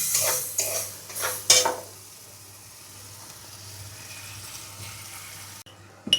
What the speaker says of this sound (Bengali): ভালো করে মশলাটা দেখুন কষানো হচ্ছে।